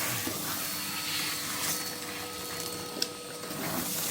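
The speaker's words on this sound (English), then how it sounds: "Just hoover this bit out." A vacuum cleaner hoovers soot and debris out of an open fireplace after chimney sweeping, giving a steady, fairly quiet broadband whoosh with faint rattles from the nozzle, heard alone without talk.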